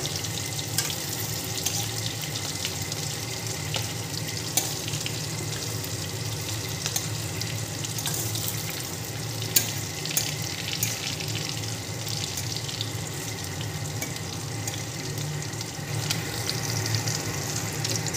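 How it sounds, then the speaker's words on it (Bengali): Chicken pieces fry in oil in a kadai for butter garlic chicken, a continuous, even, close sizzle with a few faint pops throughout. "চিকেনটা আমার একদিক ফ্রাই হয়ে গেছে, এবার আমি এগুলো উল্টে দেব।"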